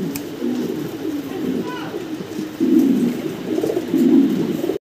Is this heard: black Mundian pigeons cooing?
yes